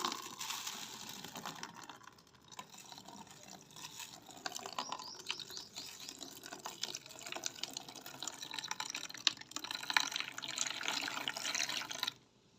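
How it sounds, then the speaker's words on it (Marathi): Overnight-soaked finger millet is washed by hand in water. Soft, continuous sloshing and trickling with small drips goes on throughout, fairly quiet and close, with no talking. "आता मी याला असं स्वच्छ असं धुवून घेते।"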